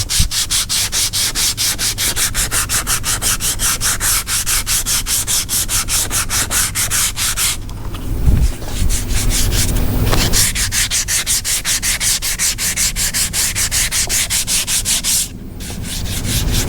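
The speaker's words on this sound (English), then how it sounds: "Everything sanded down." Steady back-and-forth hand sanding of guide coat on a custom rear speaker deck for a 1979 Chevrolet, a continuous close rasping rub with brief pauses and shifts in stroke.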